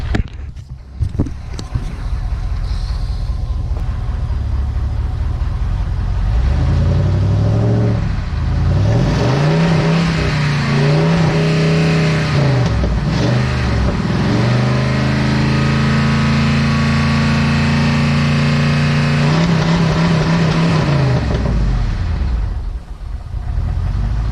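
A truck engine close by, idling and then revving repeatedly in rising and falling surges, loud and throaty, settling back toward idle at the end, while giving off white smoke under throttle.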